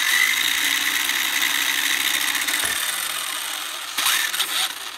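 Electric motor of a 1:10 scale RC car whines steadily and close, holding a high-pitched drone with a brief rev surge near the end.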